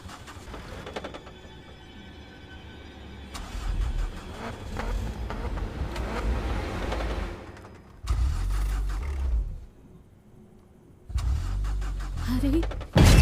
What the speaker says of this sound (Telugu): కార్ స్టార్ట్ అవ్వట్లేదు